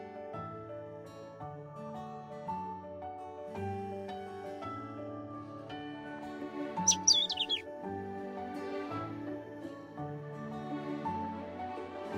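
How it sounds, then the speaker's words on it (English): A small bird chirps in a quick burst of high tweets partway through, over steady melodic background music in the Love and Deepspace game. "Is it just me, or have I seen this bird before?"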